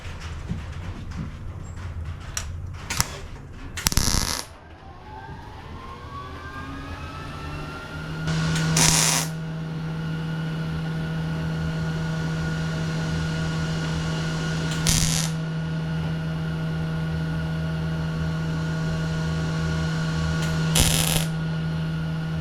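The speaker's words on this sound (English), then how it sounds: "So let's just weld it." A welder works on a rusted body panel of a 1979 Camaro Z28 in a garage, with a steady crackling buzz under a constant low hum and a few sharp bursts and clanks, without any talk.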